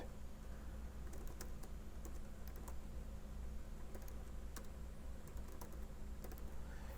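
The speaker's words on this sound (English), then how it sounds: "wherever our cursor is, and we click and we type" Soft, quick keystrokes on a computer keyboard tap in an irregular run of clicks over a steady low hum, faint and close, with no one speaking.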